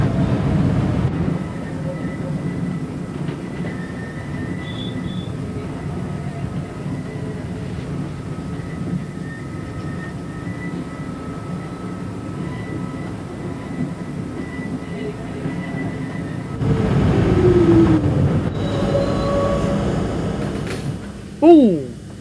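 An R40 Slant subway train on the C line in the video game Customia rumbles steadily along the track, with a louder surge of motor and wheel noise near the end and a brief rising tone.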